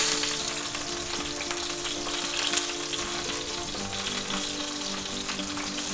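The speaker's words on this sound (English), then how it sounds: "let's take a little butter and start basting our" A chuck roast sizzles steadily in a pan over medium heat while being basted with butter, a dense, continuous crackling hiss that stays close and loud with no talk.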